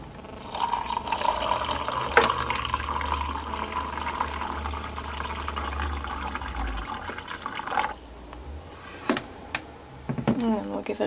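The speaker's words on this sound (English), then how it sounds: "Pour the hot water in." Hot water poured into a cup of cinnamon, ginger and black tea for homemade chai, a steady liquid fill running several seconds under a speaking voice before trailing off.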